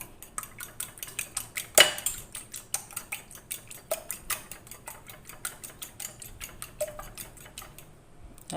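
Two eggs are whisked in a bowl, producing a quick, regular tapping and clinking of utensil against the bowl, faint and close, with no talk.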